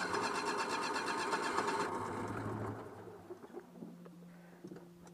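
A Citroën 2CV6 air-cooled twin revs after a hot start, giving a loud, rapid, buzzy chatter up close that falls back to a quieter, uneven idle with small blips.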